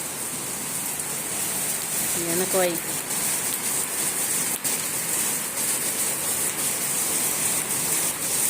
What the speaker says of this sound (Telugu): కొంచెం వాన వస్తుంది, అందంగా ఉందని వీడియో చేస్తున్నాను